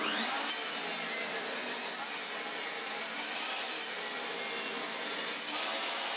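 Hand saw cutting through a glued wooden furniture panel, a steady close rasping stroke sound continuing throughout without pause or talk.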